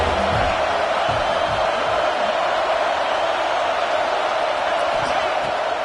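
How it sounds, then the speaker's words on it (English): A dense stadium crowd in the college football video game NCAA 26 roars loudly and steadily, a constant wall of cheering noise with a commentator talking over it. "This crowd knows when to bring it."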